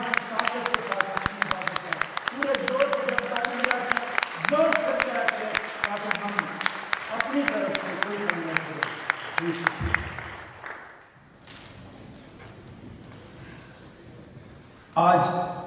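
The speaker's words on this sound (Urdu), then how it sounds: "کھڑے ہو کر خدا کی حضوری کے لیے کوائر کے لیے زوردار تالی بجائیں" Congregation in a church service applauding for the choir, a dense wash of clapping that holds steady for about ten seconds before fading into quieter room noise and a brief burst at the end.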